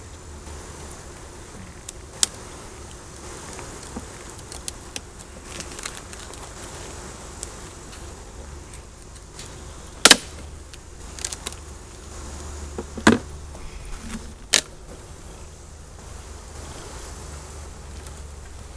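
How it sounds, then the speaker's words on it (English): A dense, continuous hum of many honey bees buzzing up close at an open hive during an inspection, broken by a few sharp clicks and knocks. "A lot of bees."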